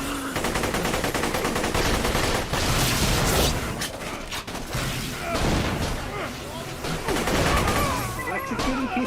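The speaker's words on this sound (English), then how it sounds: "Stop shooting me." Rapid gunfire hits the player in the Borderlands video game. Close, dense bursts of automatic shots come in waves, with brief lulls between them, and a voice talks over the shooting.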